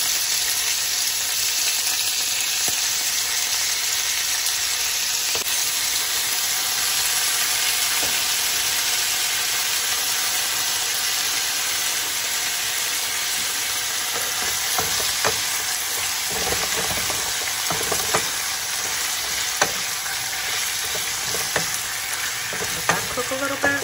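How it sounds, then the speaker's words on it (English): Onions frying in a pan, a long steady sizzle with occasional light stirring clicks and crackles, fairly close, without speech. "So I'm throwing a few onions in there now."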